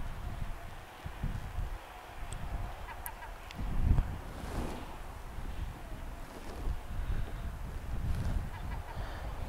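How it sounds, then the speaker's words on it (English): Gusty outdoor wind buffets the microphone during a small sub-250g drone flight, a steady low rumble with a stronger gust near the middle and faint higher noise above. "It's a little bit windy today."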